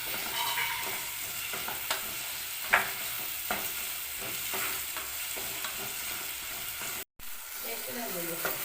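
Goat boti pieces sautéing in a pan for a simple mutton snack: a continuous close frying hiss with occasional soft scrapes and taps from stirring.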